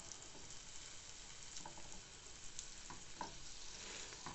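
Food squished down into a pan and frying with a steady, dense sizzle, broken by faint occasional stirring ticks, quiet and continuous throughout.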